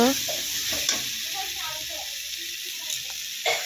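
Spice paste for a drumstick, potato and katla fish curry sizzles steadily in a pan, a continuous close hiss with a few soft stirring scrapes, and a voice talking faintly underneath.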